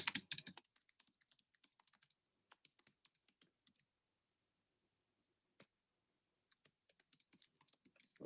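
Light keystrokes on a computer keyboard tap out sparse, irregular clicks in a quiet room, starting with a brief burst and then thinning to scattered faint taps.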